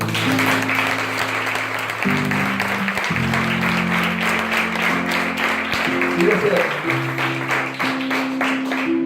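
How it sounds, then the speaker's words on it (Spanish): A church congregation claps during a service while sustained keyboard or organ chords play beneath, the clapping rhythmic and continuous over the music. "Dale un aplauso al Rey."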